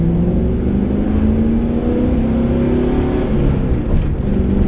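A 1969 AMC Rambler wagon hot rod fitted with a 2000 Camaro engine accelerates hard, its loud, close engine note rising steadily through the revs.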